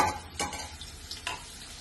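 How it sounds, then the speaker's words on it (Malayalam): Sliced onions dropped into hot oil in a pan for a capsicum and broccoli gravy, with a soft sizzle and a couple of brief bursts of stirring and scraping over a quiet background, no speech. "അതിലേക്ക് നമുക്ക് സവാള ഇട്ട് കൊടുക്കാം."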